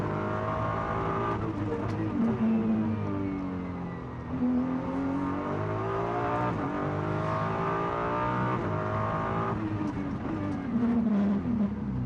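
A GT3 race car at the Macau Grand Prix circuit climbs toward Donna Maria, its engine a loud, sustained roar with gear changes and shifting revs, under a commentator's voice.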